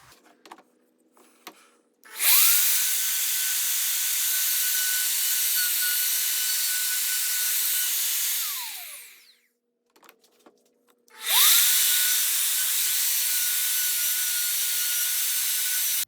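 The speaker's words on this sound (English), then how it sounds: "So with this new plunge router, which is great to have so I don't have to constantly be taking the router out of here" Plunge router cutting a guitar truss rod slot in wood: a loud, high-pitched whine that spins up, holds steady for several seconds, winds down, then starts again for a second pass, with no talking.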